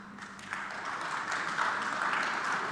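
An audience at a conference session claps together, a steady wash of applause that holds through the moment and sounds moderately distant.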